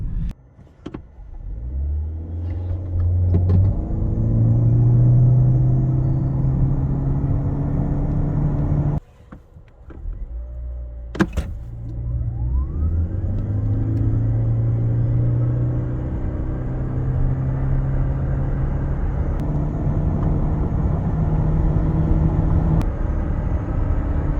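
A 2023 Toyota Corolla 1.8 Hybrid 140 with e-CVT accelerates, its engine droning at a steady held pitch that rises, cuts out briefly near the middle, then climbs and holds again, heard from inside the cabin with no talking.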